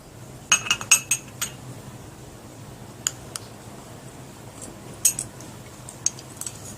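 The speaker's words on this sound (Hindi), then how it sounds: "ऐड करने के बाद अच्छी तरीके से इसको मिक्स कर लीजिए।" A spoon clinks against a bowl while mixing ingredients with a pinch of baking soda, with a quick cluster of bright taps at first, then a few scattered clicks in a quiet room.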